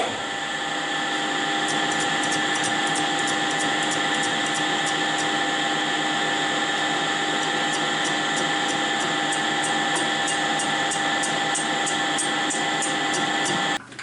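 A lathe turns a gear blank down to a 183 mm diameter, giving a steady, loud mechanical whine with a faint rapid ticking that runs throughout and cuts off abruptly at the end.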